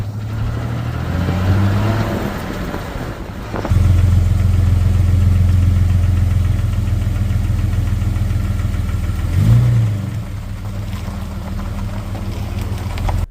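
A Jeep XJ with a 4.0-liter engine suffering piston slap runs steadily at close range, a continuous low mechanical drone with a brief rise in pitch partway through, no talking.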